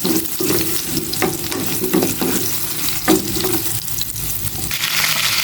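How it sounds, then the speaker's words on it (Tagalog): Steady, dense sizzling and crackling of chicken browning in a hot pan, with occasional scraping stirs, continuous and close by without any talking. "Prito ko din tong manok ng konti lang."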